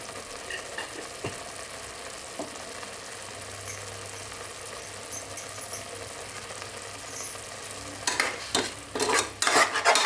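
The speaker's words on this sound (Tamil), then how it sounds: "இப்போ வந்து பச்சை வாசனை போயாச்சு நல்லா வந்து மசாலா வந்து ஃப்ரை பண்ணியாச்சு" Masala with coriander powder and turmeric fries in a pan for mutton kola urundai kulambu, a soft steady sizzle broken by spatula scrapes that grow louder and busier toward the end.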